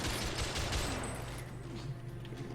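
Gunfire in The Order: 1886, a dense crackle of shots up close at the start that thins into a lower, steady rumble of battle noise.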